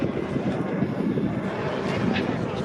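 A Baltimore Police AS350 (H125) helicopter drones loudly overhead in a steady low rumble, heard from out on the water.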